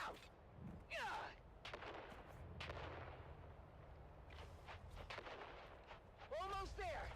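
Gunfire and grenade blasts in the video game Dune Awakening, repeated booming shots and explosions over a rumbling background, with excited players talking and shouting throughout.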